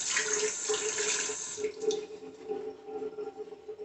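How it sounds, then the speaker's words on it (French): Cold tap water runs steadily into a sink as hands are wetted under it, a close, bright splashing hiss that eases after about a second and a half into softer trickling and dripping. "je vais encore mouiller mes mains avec de l'eau froide cette fois"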